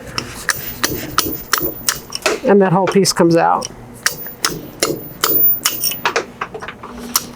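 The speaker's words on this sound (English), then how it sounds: "now I can take the chisel and hammer and pop down along that line" A hammer strikes a chisel to carve wood in an artist's studio, giving a series of sharp, close wooden knocks in an irregular rhythm, while a person talks between and over the blows.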